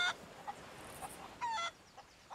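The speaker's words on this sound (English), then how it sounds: "And chickens." Chickens in Sea of Thieves cluck in short, sharp bursts at irregular intervals, with one slightly longer squawk midway, heard alone over a faint hiss of game ambience.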